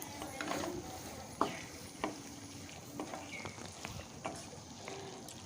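Mituli sizzles gently in a pan with fish oil while a utensil stirs it, a soft continuous fry broken by scattered scraping clicks and taps, close by and with no talking.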